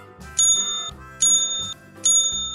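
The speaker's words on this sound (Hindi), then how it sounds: "सबसे पहले हमें यहाँ दी गई है घंटी की ध्वनि" A small metal bell rings three times in even succession, each a bright ringing ding-ding with a shimmering decay, close and loud with nothing else heard.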